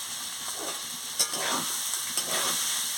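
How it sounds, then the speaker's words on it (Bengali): Small soybean chunks and potato stir-fried with spices in a pan, a constant hiss of frying under a few scraping strokes of the spatula. "সোয়াবিন আলু দিয়ে দিচ্ছি, দিয়ে মশলার সঙ্গে ভালো করে কষিয়ে নিচ্ছি।"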